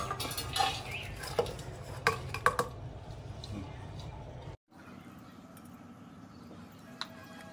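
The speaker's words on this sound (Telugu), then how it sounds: "చెయ్యి లైట్ గా తడి చేసుకుంటూ పిండిని కలుపుకోవాలి" Karam chips dough being mixed by hand in a small bowl, soft squelching and pressing with occasional clinks and knocks against the bowl, close, with a brief cut and quieter mixing afterward.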